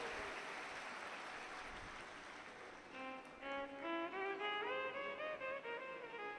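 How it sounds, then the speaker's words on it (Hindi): A crowd at a religious gathering claps for an arriving guest, a dense, distant patter of applause that fades after a few seconds as melodic music rises in its place. "एक बार जोरदार ताली बजाएं बाबा जी के लिए"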